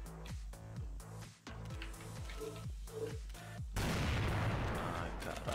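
Rapid bursts of CrossFire video game gunfire with sharp repeated shots, ending in a dense, noisy volley of fire.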